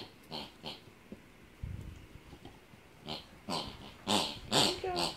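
Dog playing with a squeaky pig toy, a run of short grunting squeaks and snorts arriving in uneven bursts, close and fairly faint, with a person talking briefly.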